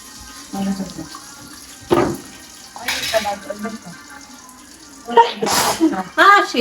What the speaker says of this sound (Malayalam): അലർജി കൊണ്ട് കുടുങ്ങി തുമ്മി തുമ്മി